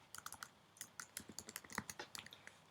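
Rapid clicking keystrokes on a computer keyboard, typing a line of Python code in quick uneven bursts, close and quiet with no talking.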